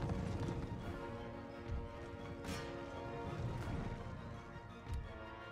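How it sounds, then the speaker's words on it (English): Horse grenadier guards cavalry advancing in Empire: Total War, a steady rumbling clatter of many hooves with occasional thuds and clashes, moderately distant, continuous throughout. "The horse grenadier guards are advancing."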